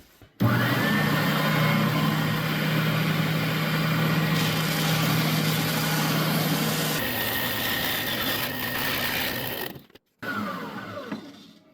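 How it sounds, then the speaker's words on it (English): An electric sander smooths a wooden piece for a corner plant shelf, giving a loud, steady motor roar with a rough grinding texture for about nine seconds, then a brief cutoff and restart. "So I'll just take it to the sander and I'll get that down the rest of the way."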